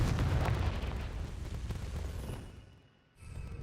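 The Confringo explosive curse from Hogwarts Legacy goes off as a heavy booming blast with a rumbling roar that fades away, followed by a brief lull before more game sound returns.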